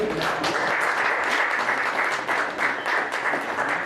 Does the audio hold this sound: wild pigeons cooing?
no